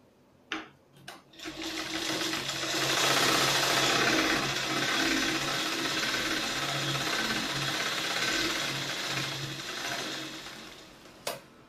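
An electric sewing machine topstitching a lining strip on a katori blouse, running in one long continuous close whir after a few brief starting clicks, then stopping.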